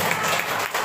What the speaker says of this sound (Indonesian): Tepuk tangan buat Rafa.